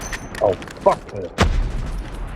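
Grenades go off in Call of Duty Mobile multiplayer as several sharp booms in quick succession, the last one heavier, with a voice faintly under the blasts.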